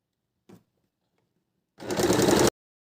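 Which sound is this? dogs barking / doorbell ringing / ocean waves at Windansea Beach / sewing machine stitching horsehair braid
sewing machine stitching horsehair braid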